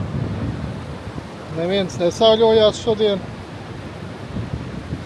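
Wind and sea waves wash against the shore in Crete in a continuous loud rush, with a person speaking briefly over the surf midway through.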